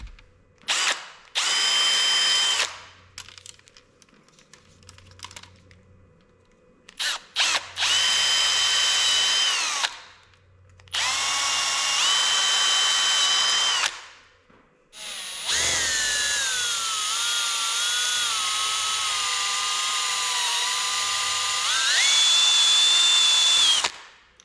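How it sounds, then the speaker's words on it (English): A power drill whines in several bursts, then a long, steady grinding cut as a hole saw bites through material to fit USB charging ports on a Tour Egg, pitch sagging under load. "Hopefully we don't destroy anything when we drill this."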